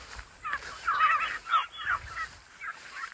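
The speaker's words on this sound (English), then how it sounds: "turkeys going out on pasture today." Turkeys being let out onto pasture gobble and chatter in a busy cluster of calls, fairly close and overlapping, with brief gaps between bursts.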